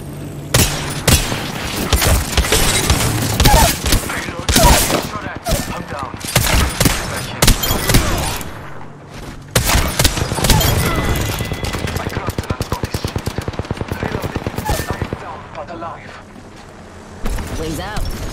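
Rapid, loud gunfire rings out in the Apex Legends battle royale, with a 30-30 Repeater lever-action rifle among the weapons, shots arriving in dense bursts and volleys punctuated by booms, with a steadier string of repeated shots later on.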